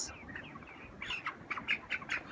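Broiler chickens in a poultry farm shed give a string of faint, short squawks and clucks, several in quick succession toward the end, over a low murmuring background of the flock.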